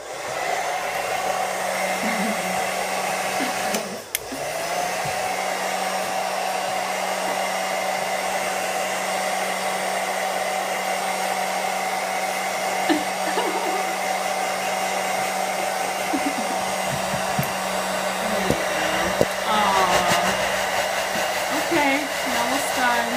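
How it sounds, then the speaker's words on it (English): A blow dryer runs steadily while drying a Boston Terrier, a loud, close, continuous whir that holds an even pitch with a brief dip early on, and no talk over it. "So I've got a blow dryer here."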